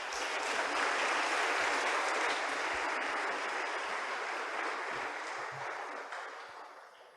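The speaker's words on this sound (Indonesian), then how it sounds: "Boleh dong kita kasih tepuk tangan sekali lagi buat Bapak Dekan kita" Audience applause for the dean at a new-student welcome ceremony at Institut Teknologi Bandung, a dense, even wash of many hands clapping that gradually fades toward the end.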